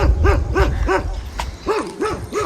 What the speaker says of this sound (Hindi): उधर कुत्ता खड़ा है मेरे चाचू का